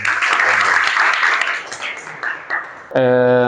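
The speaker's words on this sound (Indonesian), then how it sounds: "Tepuk tangan." Applause from a school assembly at SMK Negeri 2 Sampang, a burst of clapping from a crowd of students that fades unevenly before a loud tonal sound cuts in abruptly.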